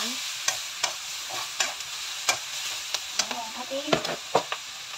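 Noodles frying with vegetables in a hot pan, loud sizzling and spattering under a stream of sharp clicks and scrapes as they are stirred, with a few quiet voice fragments.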